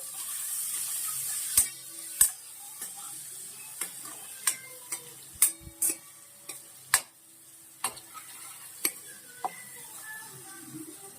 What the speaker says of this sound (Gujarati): હવે અંદર મીઠું નાખીશું સ્વાદ પ્રમાણે થોડી હળદી હળદર નાખીશું અડધી ચમચી જેટલી હવે એકવાર આપણે હલાવી લઈએ